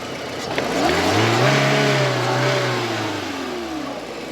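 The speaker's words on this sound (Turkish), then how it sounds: "Arabanın motoru çalışması şu şekil." A car engine runs with a rough, uneven throb, rising in revs and falling back over a few seconds, loud and close, with a faint knocking character and no voices.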